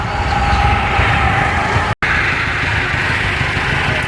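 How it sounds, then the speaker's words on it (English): Near and loud, a miniature replica steam engine train runs at an amusement park with a continuous mechanical rumble and rolling clatter, broken by a brief dropout partway through. "Look at that miniature replica of a steam engine."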